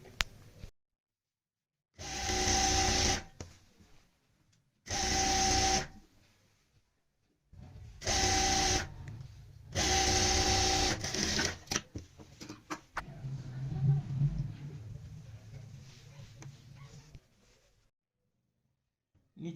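A sewing machine stitching the folded hem of a Punjabi kurti, running in four loud steady bursts separated by short pauses, followed by softer handling sounds.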